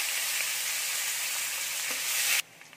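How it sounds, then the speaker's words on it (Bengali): Onion hits hot oil that was used to fry fish and holds whole garam masala, giving a loud, continuous close sizzle that cuts off abruptly near the end. "পেঁয়াজ দিয়ে দেব।"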